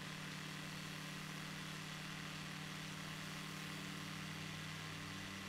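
An aircraft engine in a flight simulator drones steadily after being throttled down, a faint, even hum with no voices.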